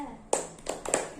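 A class in a peer-teaching lesson does a short rhythmic spirit clap, a few crisp, close hand claps spaced in a quick pattern, with voices mixed in.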